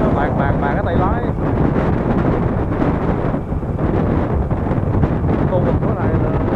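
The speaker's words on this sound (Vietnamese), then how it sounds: "gió nhiều lắm. Mình chạy 40, gió nó bạc cái tay lái." Strong wind buffets the microphone of a motorbike riding at about 40 through open rice fields, a continuous loud roaring rumble that nearly buries someone talking throughout.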